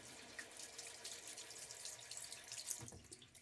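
Tap water runs steadily into a sink as lather is rinsed off fingers during a wet shave with a Fatip Piccolo SE razor, a close, even broadband splash with no talking.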